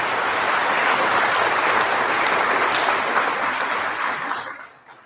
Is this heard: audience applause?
yes